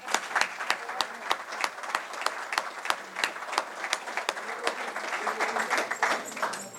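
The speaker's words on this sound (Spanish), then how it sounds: "respetuosamente pido un aplauso" Audience applauding at a book presentation, a steady, dense patter of many hands clapping throughout, fairly close and continuous, with a few louder individual claps standing out.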